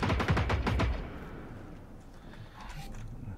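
Gunfire from Generation Zero: a loud burst of rapid shots in the first second, then fading to a low rumbling echo with faint scattered sounds.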